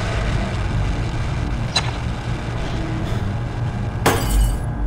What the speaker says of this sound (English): I don't like glass breaking